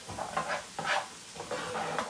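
Garlic tadka tempering sizzles in a pan, with bursts of crackling and stirring that rise and fall in short pulses, close and fairly quiet, without talk.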